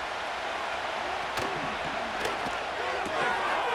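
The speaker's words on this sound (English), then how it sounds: "The Arrowhead crowd in full roar." Roaring crowd at Arrowhead Stadium in the football game Madden NFL 25, a dense, steady wall of cheering noise throughout, with a few sharper thuds and swells over it.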